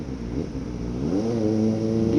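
A year-old motorcycle engine revs while riding, its tone climbing steadily and holding a strong buzzing drone, loud and close throughout.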